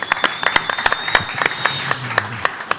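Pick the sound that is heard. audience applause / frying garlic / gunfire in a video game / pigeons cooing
audience applause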